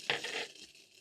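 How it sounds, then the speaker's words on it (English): Garlic and coriander frying in melted butter over a low flame, a brief close sizzle with a crackly burst at the start that fades quickly. "cook the garlic and coriander for around 30 seconds"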